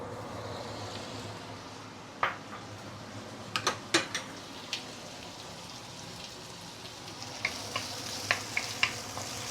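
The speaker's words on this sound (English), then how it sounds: "We will saute this prawn for about a minute plus before we continue." Prawns sautéing in hot oil in a wok for seafood fried rice: a steady, fine crackling sizzle throughout, with a few sharp clicks and pops of the utensil scattered over it.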